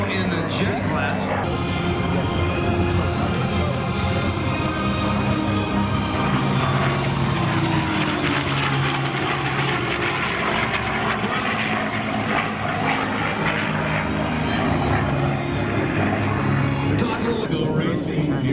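A P-51 Mustang propeller warplane flies an aerobatic roll at the Central Coast Airfest in Santa Maria, California, its engine droning steadily for the whole stretch while a commentator talks over a public address system.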